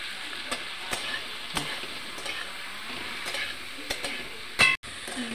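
Spices including kasuri methi dry-roasting lightly in a pan, a soft steady sizzle with periodic scraping stirs and clicks of a spatula, fairly close and quiet.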